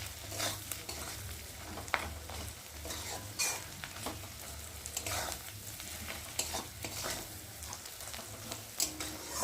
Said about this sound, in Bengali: আর অল্প করে নুন হলুদ দিয়ে একটু মশলাটা কষিয়ে নেব।